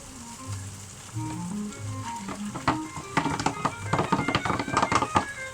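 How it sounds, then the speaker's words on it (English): Mushrooms and onions tipped into a hot pan for a beef chow mein, with the sizzle swelling from a soft crackle into dense, loud frying crackles and spatters toward the end. "I'm going to whack the onions in"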